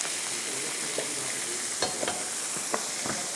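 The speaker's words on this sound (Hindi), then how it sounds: "देख सकते हैं प्रॉपर सिजल हो रहा है" A tadka of spices for beef haleem sizzles in hot oil with a steady, hissing fry and occasional small pops and stirring scrapes, close and continuous.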